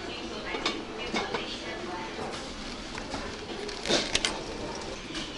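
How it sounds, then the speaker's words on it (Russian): Clinks and knocks as a heavy 26 cm Austrian forged-aluminium frying pan with a non-stick coating is handled in a shop, with several sharp metallic taps over a busy store background. "Кстати, австрийская сковородка."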